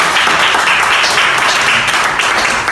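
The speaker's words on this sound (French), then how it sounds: "je vous prie d'acclamer très très fort pour cette bande" A crowd applauds a new sanitary pad band at a product presentation, with steady, dense clapping that fills the whole stretch at an even, loud level.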